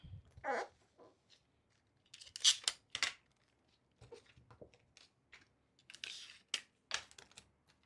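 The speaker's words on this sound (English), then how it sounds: "Yes, good scissors. We love good scissors." Scissors snip while a C-3PO style bustier is being made, producing a run of sharp, close, irregular cuts separated by quiet gaps.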